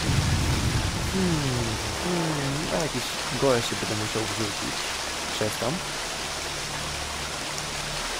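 Continuous rushing water in the Gothic role-playing game, a broad steady wash heard throughout while someone talks over it for the first few seconds.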